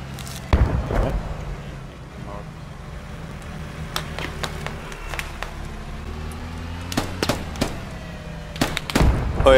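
Enemy gunfire in a squad-based online shooter, heard as a string of sharp, separate cracks and thumps spread through the clip with a couple of tight clusters, set over steady game ambience.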